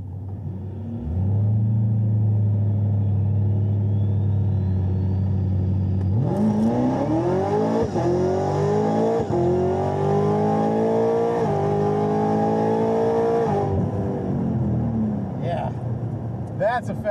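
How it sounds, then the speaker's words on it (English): A fast car accelerates hard and roars past on the road, its engine note climbing steadily over several seconds before dropping away, loud and close throughout. "That's a fast car."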